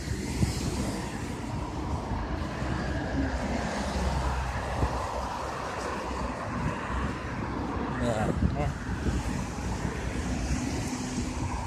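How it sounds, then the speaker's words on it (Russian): Cars pass along Moskovsky Prospekt in Kaliningrad, a broad rumbling traffic wash with gusting wind noise on the microphone, while people talk throughout over the street sound. "Еще и машины ездят."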